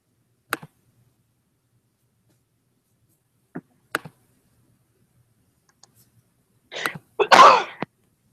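A single loud, close sneeze bursts out near the end of a mostly quiet stretch, preceded by a few scattered small clicks and taps.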